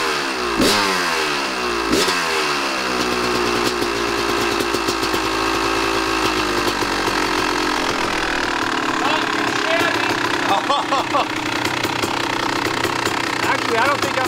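A dirt bike engine that has run poorly for years, idling with a lumpy, uneven chug after two sharp revs near the start, then settling into a steady idle with occasional blips, loud and close.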